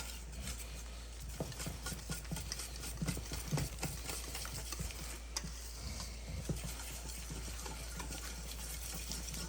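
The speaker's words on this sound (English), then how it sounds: "our yolks, our Parmigiano, Reggiano. Go ahead and whisk this together." Egg yolks and Parmigiano Reggiano whisked together for carbonara, rapid irregular ticking and scraping of a whisk in a bowl, steady and fairly faint over a low background hum.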